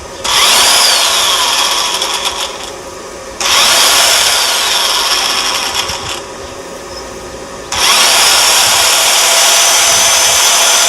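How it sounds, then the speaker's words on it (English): A loud electric drill, powered from a solar-panel battery setup in a shed, whirs in three long bursts, pausing briefly between runs, with a steady fan-like hum underneath throughout. "the drill works as if it's plugged into the mains"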